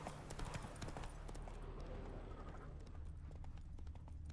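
Roach, a horse in The Witcher 3, clip-clops along a road in steady hoofbeats that start close and loud, then soften a little as the rhythm continues under a quiet game ambience.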